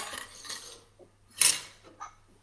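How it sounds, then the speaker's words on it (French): Dishes and cutlery being washed by hand at a sink, with scattered clinks and clatters of pots and utensils, one louder knock in the middle, fairly close and with no talking. "Elle continue de la vaisselle."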